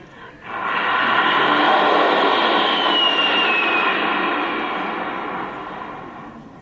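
A voice imitates a rocket going past, a loud rushing roar that starts abruptly, peaks early with a rising whistle, then slowly fades, heard close with no talk over it.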